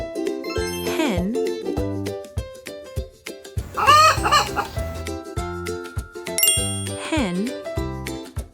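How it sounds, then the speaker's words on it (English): A hen clucking, heard in short repeated bursts over a bright, jingly children's music backing, close and fairly loud, with the clucks standing out from the tune midway through. "hen,"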